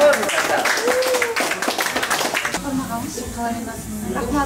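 An audience claps loudly for about two seconds at a gathering of akyn poets, then the applause fades as a voice begins.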